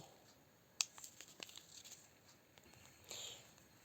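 A small grape-flavored tea packet is torn open by hand. There are a few faint, close crinkling rips, with a short sharp tear near the start and a softer rustle toward the end.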